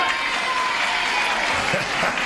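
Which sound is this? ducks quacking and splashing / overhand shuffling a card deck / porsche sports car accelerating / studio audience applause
studio audience applause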